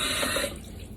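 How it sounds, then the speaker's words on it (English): Tap water runs steadily into a bathroom sink during face washing, a close, full rush that drops in level halfway through, with no talk. "now is my step to literally just wash my face"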